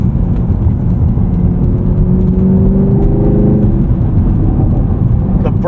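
Deep exhaust burble from a Chevrolet Camaro SS 1LE V8 with its exhaust valves closed: a steady, loud, close rumble with a faint rising and falling tone, and no talk over it.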